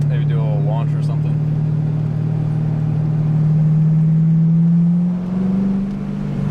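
A C5 Corvette with a modified exhaust idles and rumbles deeply, then revs up for a launch with a rising engine drone, loud and close, while people talk over it.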